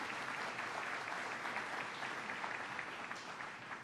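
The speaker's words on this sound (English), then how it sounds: "Let's give them a round of applause for the great work they do." An audience applauds at a New York infrastructure announcement, steady dense clapping sustained throughout at moderate distance, without speech on top.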